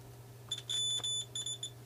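Multimeter continuity tester checking pins on a homemade Pylontech battery cable adapter gives a few short, loud electronic beeps, the longest in the middle, over a steady low hum.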